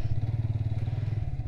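A motorcycle being parked sits close by, its engine idling with a steady low pulsing chug and faint clatter for a brief moment, no voices present.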